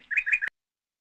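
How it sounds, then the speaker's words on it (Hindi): A small bird gives three quick chirps in a rapid series, clear and close, ending abruptly into silence. "चिड़िया करती चू चू चू"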